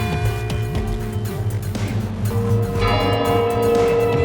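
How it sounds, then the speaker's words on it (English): Kremlin bells ringing in Moscow, heard as sustained, overlapping metallic tones with a steady hum beneath. The ringing grows fuller and brighter toward the end, with no voices present. "the Kremlin bells rang out again"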